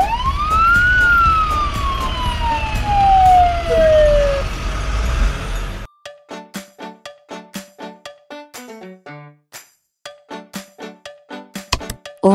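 A wailing ambulance siren in a children's color-learning video game with mini cars sweeps loudly up and down for several seconds, then gives way to a quick run of plinking game notes and chimes.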